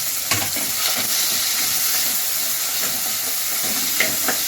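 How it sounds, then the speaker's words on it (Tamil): Small onions and tomatoes frying in an oiled pan with curry leaves for mutton kuzhambu give off a steady, close broadband sizzle, with a few soft stirring clicks scattered throughout. "இதெல்லாம் நல்லா வதங்கட்டும்."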